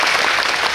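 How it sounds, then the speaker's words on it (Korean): Audience applause at a Busan International Film Festival screening Q&A, a dense, steady wash of clapping filling the whole short moment. "어쨌든 박수 한번 부탁드립니다"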